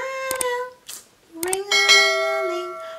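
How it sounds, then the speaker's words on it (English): A bright ringing bell sound effect, a few resonant strikes with shimmering overtones that sustain and fade, loud and alone without talk. "Ring my bell."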